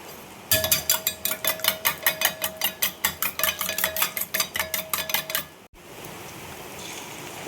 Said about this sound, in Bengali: ডিমগুলো ফেটিয়ে নেব।